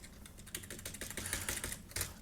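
Code being typed on a computer keyboard, a steady run of quick, light key clicks with a few louder taps, close but quiet and with no talking.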